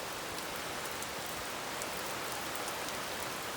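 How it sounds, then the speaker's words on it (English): Constant rain from Hurricane Debbie in South Carolina falls as a steady, even hiss of drops on surfaces, unbroken and moderately faint, with no voices. "it's been 24 hours since this rain started."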